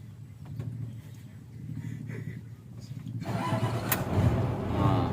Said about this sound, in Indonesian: Oke, coba kita nyalakan mesinnya ya.